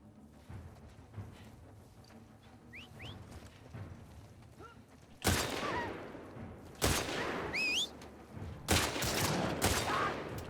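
Gunfire in the video game The Last of Us Part II: faint scattered shots early on, then several loud sharp bursts of rapid fire in close succession, with whistling sounds between them.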